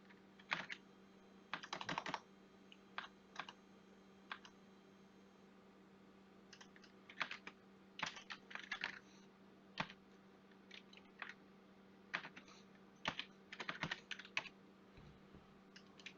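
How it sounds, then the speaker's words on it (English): Typing an IP address on a computer keyboard, with close, crisp key clicks in short irregular bursts and pauses over a steady low electrical hum. "This is where we type in the IP address."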